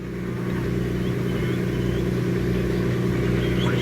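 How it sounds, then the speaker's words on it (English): A double-decker bus engine rumbles steadily and loudly, a low continuous drone that swells slightly as it draws nearer, with no speech over it. "he could hear a bus in the distance"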